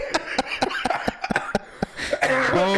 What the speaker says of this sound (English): It is a cough.